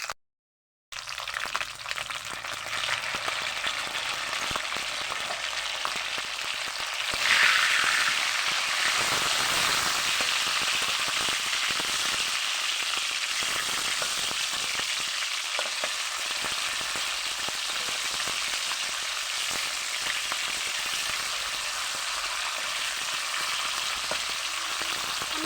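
Bitter gourd and onions fry steadily in a pan over low heat, a dense continuous sizzle with occasional stirring scrapes, close and fairly loud, with no talking.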